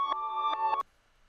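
Reversed sample loop, half-timed and EQ'd in Logic Pro X, playing as a steady sustained tone with soft swelling pulses, then cutting off abruptly into near silence.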